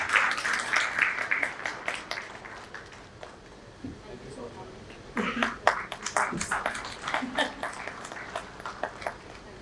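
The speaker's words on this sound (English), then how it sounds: "A big round of applause, please." Audience at a talent-supply-chain panel event claps in bursts of scattered, close hand claps, fading midway and then swelling again, with brief talk mixed in.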